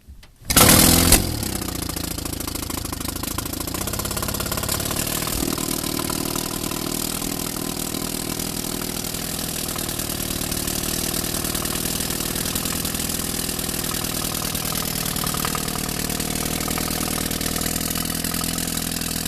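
A 1929 Elto Quad four-cylinder outboard motor fires up abruptly with a sharp burst, then settles into a loud, steady, raspy idle that drones on without a break, close by and with no talking over it.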